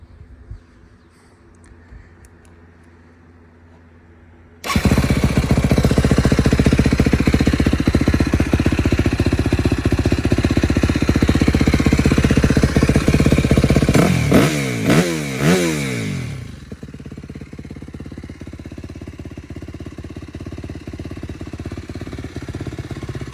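A Yamaha WR250 dirt bike engine with a new exhaust and muffler fires up and runs loudly, with a rising rev partway through before settling to a steady, quieter idle.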